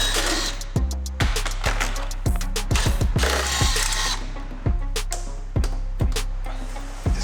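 Ratchet loosening 8mm bolts beneath a BMW F30 340i, heard as a series of sharp ratcheting bursts and clicks in irregular clusters, close and fairly loud, with no talk.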